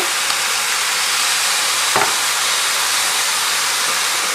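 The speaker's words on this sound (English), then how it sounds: "Give that a stir." Tomato sauce and diced tomato being stirred into cabbage roll soup in a hot pot: a steady, loud hiss of simmering and sizzling with one brief scrape of the spoon midway, no voices.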